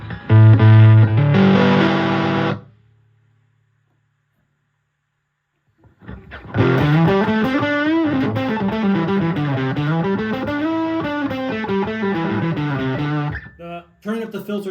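Electric guitar through a ProCo Rat distortion pedal with the distortion turned up: a loud chord burst, a few seconds of silence, then a sustained heavily distorted riff with shifting pitches, played alone without talk.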